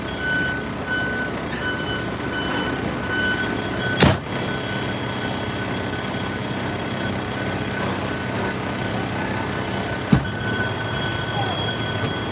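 A large truck nearby holds a steady, loud low rumble throughout, with a faint tonal whine above it and two sharp clunks breaking through.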